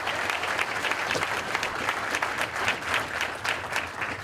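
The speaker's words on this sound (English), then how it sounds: "So let's give him a round of applause." Steady, fairly close applause from a crowd at a military ball, continuous clapping with no break throughout.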